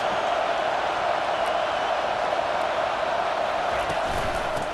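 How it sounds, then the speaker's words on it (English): Stadium crowd roar in College Football 25 during a Penn State vs Oregon game, a steady, dense wash of distant cheering and chatter that stays loud and unbroken throughout. "This crowd going to try to make life miserable for these guys."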